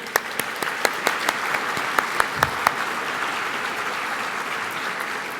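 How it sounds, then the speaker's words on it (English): A breakfast audience at a foundation fundraiser applauds two musicians, a warm wash of clapping with individual sharp claps popping out early, then thinning into a softer, steady patter. "So another round of applause for Theo and Randy."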